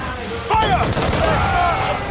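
Ship cannons fire during a naval battle in the video game Assassin's Creed Freedom Cry. A loud booming burst lands about halfway in, followed by rolling, rumbling reports within a dense mix of battle noise.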